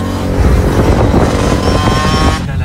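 A large group of motorcycles riding alongside on a city street, engines droning and revving loudly and close for a few seconds before cutting off abruptly at the end.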